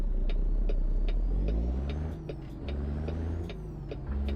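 Detroit Series 60 diesel engine in a simulated American truck, a steady loud low rumble with a droning tone shifting as it works, plus rhythmic ticking clatter over it.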